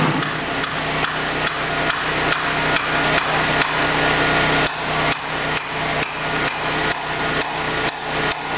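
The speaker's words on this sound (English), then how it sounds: "A little bit more tapping and we will have a 90 degree bend." Steady hammer taps on a 1/4-inch steel rod held in a rod bender, about two sharp metallic strikes per second, loud and close with no talking.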